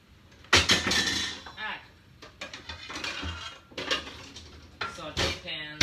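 A saute pan is pulled out and handled in a home kitchen, with metallic clanks and clinks of cookware scraping and knocking nearby as people talk over and between the sounds.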